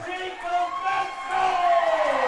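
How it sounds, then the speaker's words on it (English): A baseball crowd at a minor-league game rises in a standing ovation, sustained cheering and whooping swelling steadily louder, with a commentator talking over it throughout. "As the crowd gives Vesco a standing ovation, and it is well deserved."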